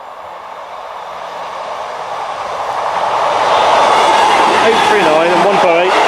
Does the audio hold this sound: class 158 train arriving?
yes